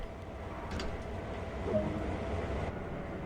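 A locomotive power unit idles in a train simulator game, giving a steady low rumbling drone with a continuous mechanical hum that stays even throughout, with no talking.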